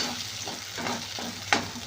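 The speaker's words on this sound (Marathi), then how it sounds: "आता आपण कॉर्नफ्लॉवरची पेस्ट आहे ती आपण यामध्ये घालूया आणि छानपैकी हलवून घेऊया" Cornflour paste is stirred into soya chunk manchurian in a hot pan, producing a continuous close sizzle with rhythmic stirring swishes and one sharp spoon knock near the end, no voices.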